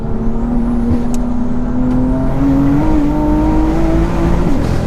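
A 625bhp big-turbo BMW M2 pulls hard in second gear, its loud, close engine note climbing steadily in pitch under a constant heavy roar for the whole stretch, with no talking.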